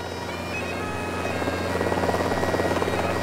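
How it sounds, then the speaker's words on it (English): A helicopter draws closer with a steady rotor thrum and whine that slowly grows louder over a few seconds, with no voices. "I hear my helicopter approaching"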